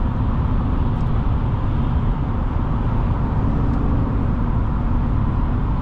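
Inside a 2025 Chevy Silverado 1500 LT pickup truck on the move, a loud, steady rumble of road and engine noise fills the cab, constant and broadband, with no voices.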